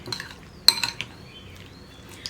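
An onion and tomato salad curry is mixed in a bowl, with a few clinks of a spoon against the bowl over a quiet background, the sharpest tap coming near the middle.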